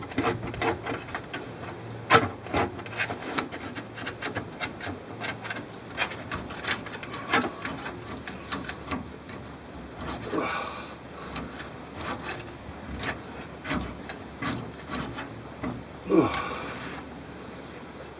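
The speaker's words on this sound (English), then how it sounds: "It's important to get all the old gasket off though" Old gasket being scraped off a vehicle part by someone working under a car, a dry irregular rasping and scratching in short uneven strokes, close and moderately loud, with grunts and breathing between strokes.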